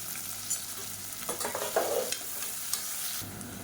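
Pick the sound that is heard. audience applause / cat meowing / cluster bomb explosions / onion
onion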